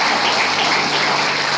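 Loud, dense applause from a large crowd, continuous clapping with no pauses.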